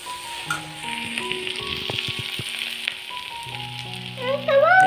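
An egg frying in a pan while chowmein is being made, a continuous close sizzle with a few clinks and scrapes of a utensil, and a brief rising squeal near the end.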